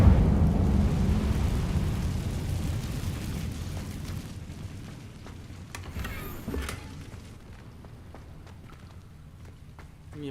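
Incendio fire spell blast in Hogwarts Legacy: a loud, rumbling burst at the start that rolls off into a fading roar over several seconds, with a few faint clicks and thuds afterward.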